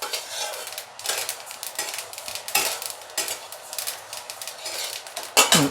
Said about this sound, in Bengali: এটা দেখুন চিটপিট করে ফুটতে আরম্ভ করেছে।